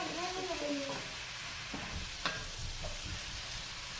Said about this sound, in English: I'm just going to stir this around for a couple minutes.